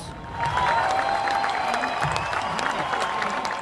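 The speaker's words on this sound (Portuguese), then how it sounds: "Os manifestantes também fizeram 1 minuto de aplausos." Protesters gathered on Avenida Paulista hold a minute of applause, a loud, continuous outdoor crowd clapping with some cheering and scattered voices mixed in.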